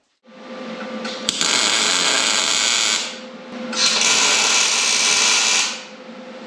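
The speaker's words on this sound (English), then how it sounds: "Let's weld it up." Welding on a rear end bracket for a metric street stock race car: two long, loud, steady buzzing, crackling bursts close by, the second following a short pause, with no talk.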